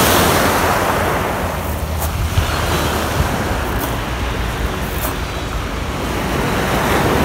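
Steady rushing surf of cold waves breaking on Brighton Beach, UK, with wind noise across the microphone and no one speaking.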